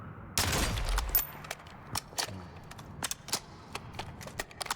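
Rapid gunfire from sniper and marksman rifles in a video game, a loud close shot burst at the start followed by several sharp, scattered impacts and clicks at close range.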